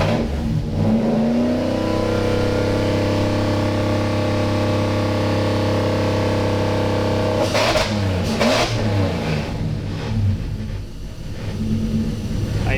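A Toyota 1UZ V8 swapped into a pickup and running on an aftermarket ECU and harness idles smoothly with a steady, deep, even hum, then blips its throttle in two quick revs before settling back to idle, loud and close.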